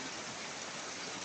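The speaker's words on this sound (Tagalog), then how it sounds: "So, sobrang lakas ng ulan." Heavy rain from Typhoon Enteng pours down in a dense, unbroken roar, loud and close with no voices over it.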